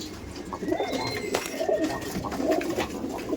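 A Madrasi pigeon coos close by, a few soft, throaty calls rolling over faint background noise.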